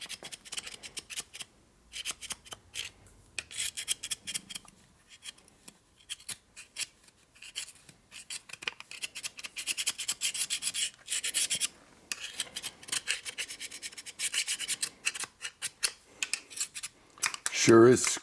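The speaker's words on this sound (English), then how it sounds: "It's got a super scraper, scrapes it cleaner." Scraper cleaning a part from a 1972 Harley-Davidson XL Ironhead Sportster, close, rapid rasping strokes in irregular bursts, sometimes pausing, with a voice speaking briefly.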